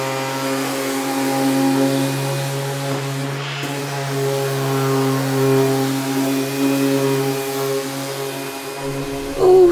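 A power sander running steadily on a narrowboat ceiling, a loud, even motor drone with a strong tonal hum that holds for nearly ten seconds before a brief clatter at the end.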